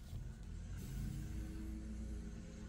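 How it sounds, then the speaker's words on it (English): A lawn mower runs steadily in the background, a continuous mid-distance engine drone that holds at an even level throughout with no voices over it. "Someone's mowing the lawn."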